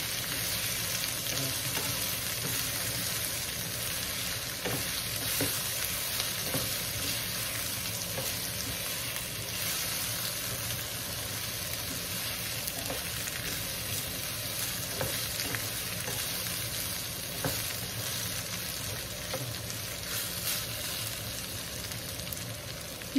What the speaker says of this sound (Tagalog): Nagbabrown ang ating karne. Nagbabrown din po ang naluluto po na ang ating mga bawang, sibuyas at luya.